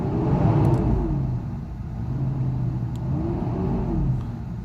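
A Mercedes 600SL engine runs loud and close, its pitch rising and falling in repeated swells as the car accelerates, with a steady low rumble underneath and no talking.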